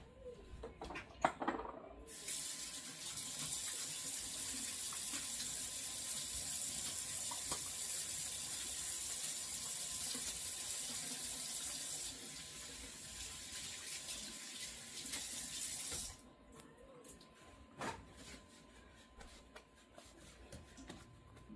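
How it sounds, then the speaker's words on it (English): A kitchen sink faucet runs steadily while hands are washed, a continuous loud rush of water for about fifteen seconds before it shuts off, leaving faint clatter and no talk. "First, let's wash our hands."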